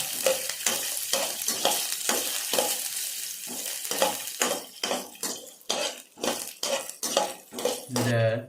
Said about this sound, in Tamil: முந்திரி நல்லா லைட்டாக வறுத்துக்கலாம்.